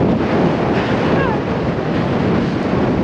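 Ocean surf rolls and crashes along a beach while strong wind buffets the microphone, a loud, dense, continuous roar that stays steady throughout, with no voices over it.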